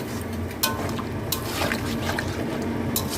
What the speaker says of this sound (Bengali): এবার জল দিয়ে দিলাম।